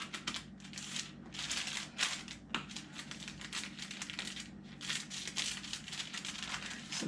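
Scissors slicing through fleece fabric around a three-fingered Baby Yoda pattern piece, a steady run of soft, close crunching snips repeating for several seconds with no voices.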